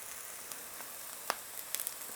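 Garlic added to softened onions sizzles faintly and steadily in a pan for lumpia spring rolls, with a few small crackles and pops.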